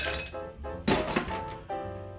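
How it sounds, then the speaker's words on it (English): Ice is put into a cocktail mixing glass while making a Manhattan: a close, quick series of hard thunks and bright glassy clinks as the cubes drop and settle, with no talking. "fill our mixing glass with ice"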